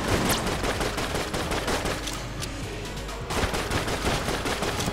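Rapid, steady bursts of Witch pistol gunfire from the video game Enter the Gungeon, a dense run of shots that keeps going nearly the whole time with a brief lull near the middle.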